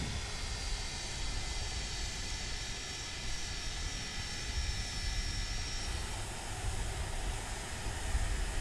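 Engines of an MD-80 airliner taxiing in a flight simulator game, a steady whining and droning hum with a continuous high tone, even in level and moderately quiet, with no voices.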